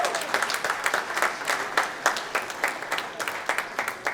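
Steady, dense applause from a crowd of graduates and guests at a college commencement ceremony, a continuous close clatter of many hands clapping with no one speaking over it.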